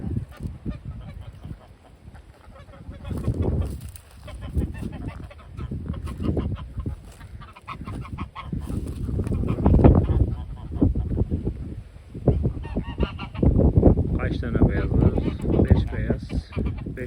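Geese honk loudly and repeatedly on a farm, joined by turkeys and roosters in a busy, overlapping chorus of calls that rises and falls with bursts of clucking, close by.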